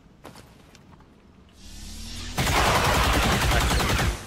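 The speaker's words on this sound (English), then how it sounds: "I'm going to take the shot." A single rifle shot in the XCOM 2 strategy game lands near the 2.4 second mark, then a dense, loud burst of crackling impact noise sustains for nearly two seconds before cutting off.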